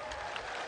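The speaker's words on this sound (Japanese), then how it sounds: "熊本のお客様から大きな拍手" An audience in Kumamoto, Japan claps at a 1989 no-holds-barred street-fight wrestling show: a brief, faint, steady wash of applause.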